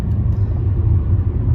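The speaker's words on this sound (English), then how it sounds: "driving on this windy road" A car driving on a windy road, a steady low rumble of engine and road noise heard from inside the vehicle, continuous and fairly loud with no talking.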